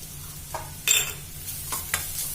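Ginger garlic paste frying with onions in a pan for a baby potato curry: a soft steady sizzle broken by several brief scraping stirs of the spoon against the pan, close by.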